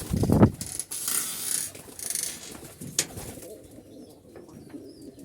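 Jalali pigeons coo softly, close at hand, in a loft, among rustling and fluttering, with a few clicks and knocks.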